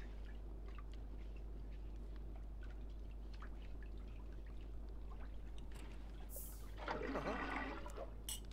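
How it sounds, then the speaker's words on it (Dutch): A shower runs in The Sims video game, a faint steady hiss of spray with a brief, louder splash near the end. "Ik zit in de douche."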